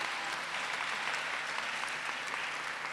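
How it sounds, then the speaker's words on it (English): A large crowd applauds a high school at a university matriculation ceremony, a broad, steady roar of clapping held at an even level throughout, with no talk over it. "Another round of applause for the Mannings High School."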